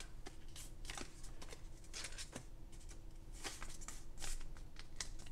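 Paper cash envelope being folded and handled, a steady close rustle and crinkle with quick crisp flicks and scrapes over about five seconds, with no talk.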